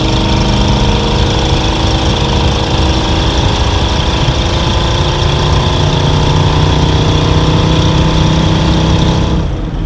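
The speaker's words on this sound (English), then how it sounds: "There's a little bit more of that exhaust note." A 1987 Chevrolet K5 Blazer's 5.7 TBI V8 exhaust note holds at a constant idle throughout, deep and continuous rumbling with no pauses.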